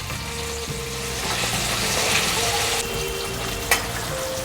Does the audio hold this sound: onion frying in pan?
yes